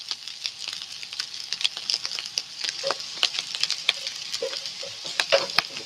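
Plenty of garlic frying in a pan for canned-chicken chow mein, giving a steady close sizzle with crackling pops and occasional scraping stirs throughout.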